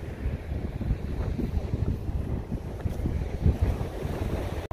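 Surf at the beach in Sea Bright, New Jersey, a continuous low rumbling wash of waves mixed with heavy wind buffeting the microphone, steady and fairly close, with no voices.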